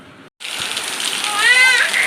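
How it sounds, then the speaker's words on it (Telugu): Heavy rain pours down in a dense, steady roar that starts abruptly after a brief silent gap and stays loud and close for the rest of the stretch. "ఉంది చూడు, ఎంత పెద్ద వాన."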